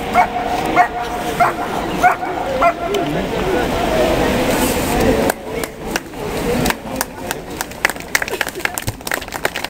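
Carabinieri police dogs bark during a canine unit demonstration, repeated sharp barks and yips with some whimpering, loud and close, mixed with scuffling and an announcer talking over them.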